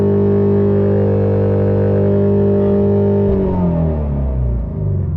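A Ford Mustang GT350 engine is held at 6,000 RPM for a launch-control start. It gives a loud, steady, buzzing drone for about three seconds, then the pitch drops and wavers as the revs change.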